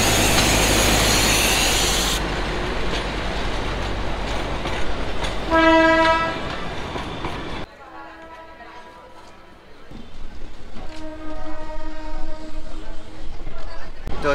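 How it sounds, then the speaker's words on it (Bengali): A toy train on the route toward Darjeeling through the Dooars rumbles and clatters along, sounding a loud horn blast midway and a longer sustained horn later over the steady rail noise. "টয় ট্রেন চললো দার্জিলিংয়ের পথে"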